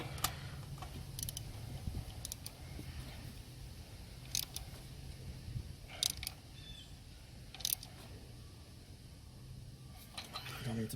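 A ratchet tightening spark plugs on an Acura TL, with bursts of rapid clicking repeated several times at irregular intervals, close and fairly faint over a low background hum.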